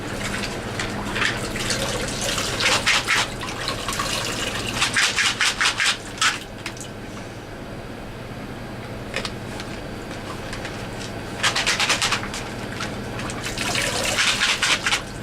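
Running water rinsing a rack of 28 mL polycarbonate lab tubes in a trace metal cleaning bath, a steady splashing gush with louder bursts of spray, no talk.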